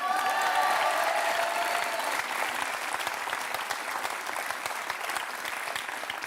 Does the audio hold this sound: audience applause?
yes